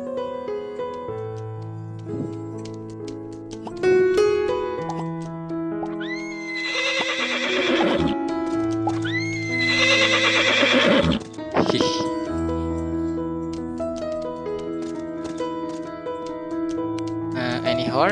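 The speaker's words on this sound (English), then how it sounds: "What a nice horse." Horse neighing from a horse in the Horse Riding Tales video game, with several loud whinnies over steady game music and a faint clip-clop of hooves.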